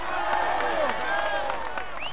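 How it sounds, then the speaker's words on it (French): Crowd cheering and clapping at a Tour de France 2016 stage podium in Bagnères-de-Luchon; a steady roar of voices with scattered claps and shouts, close and lively throughout. "Allez, on l'applaudit encore"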